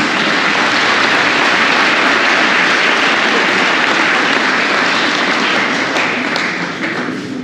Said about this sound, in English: Let's give these individuals a round of applause